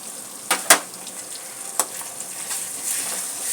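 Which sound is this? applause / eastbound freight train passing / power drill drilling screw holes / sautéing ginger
sautéing ginger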